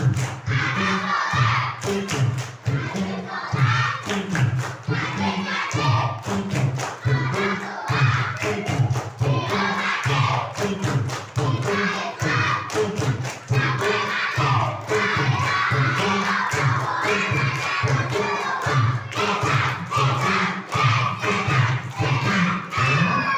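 A crowd of children clapping in quick rhythmic bursts while chanting together at a religious gathering marking Isra Mi'raj, loud and continuous with thumping claps throughout.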